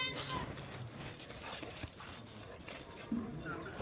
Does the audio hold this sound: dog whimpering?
yes